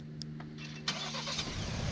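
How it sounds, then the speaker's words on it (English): A 2019 Ford Ranger XLT pickup engine cranks by remote start and catches around the midpoint, then settles into a steady idle, preceded by a few faint clicks and beeps. "push the start button twice, and the truck will fire right up."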